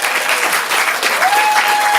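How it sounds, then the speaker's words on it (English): A room full of people applauds performers at a stand-up comedy showcase, dense steady clapping filling the whole stretch with a brief whistle or cheer near the end. "I just would like to have everyone who performed just stand over there and take a round of applause"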